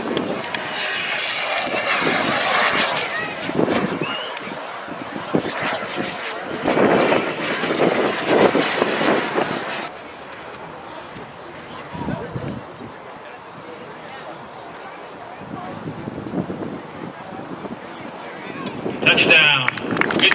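Remote-controlled model jet at an airshow roaring past on a downwind pass, a loud broadband whoosh that swells and fades, with people talking over it and a brief sharp burst near the end.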